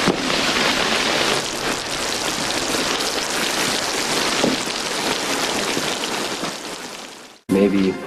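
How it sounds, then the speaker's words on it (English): Steady, dense rain falling hard and close for most of the clip, then cutting off abruptly near the end as a short snatch of another sound takes over. "The rain's letting up."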